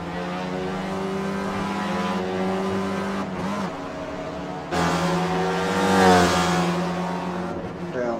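A race car with bodywork damage lapping a circuit mid-race, its engine droning steadily with harmonic tones that shift through gear changes and climb in pitch as it accelerates, close and loud throughout.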